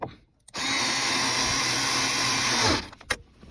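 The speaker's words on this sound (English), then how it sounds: "Added the extension so I could drill it back." A power drill with an extension drives a screw during a Nissan Maxima center console replacement, whirring steadily for about two seconds, close and loud, winding down at the end, with a couple of short clicks and knocks before and after.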